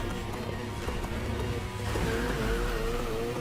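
Race cars in Need for Speed Heat roar and rev steadily throughout, engine tones climbing after a brief gear shift, loud and close.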